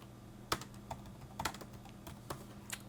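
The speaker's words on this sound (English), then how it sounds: "we'll go ahead and type some text here." Quiet, irregular clicks and clacks of keys being typed on a computer keyboard, in short bursts with brief pauses between them.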